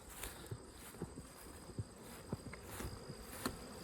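Honey bees busy around a leaking syrup bucket on a farm make a soft, continuous buzzing drone, with a few brief nearby passes and light taps over a faint outdoor background.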